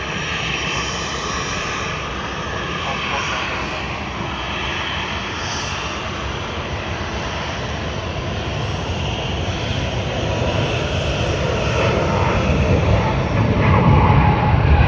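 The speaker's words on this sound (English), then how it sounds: "What a nice, silent and graceful takeoff of Singapore Airlines." Singapore Airlines airliner taking off at Sydney Airport, a steady broadband jet roar that holds for the whole stretch and swells slightly louder toward the end, with no voices.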